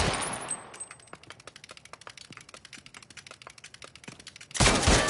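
Rapid, evenly spaced automatic gunfire aimed at a spider robot in the Spider-Man 2 video game, a long steady stream of sharp shots ending in a sudden loud blast.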